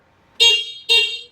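A budget heavy-duty e-bike horn gives two short, loud honks close by, about half a second apart, with silence around them.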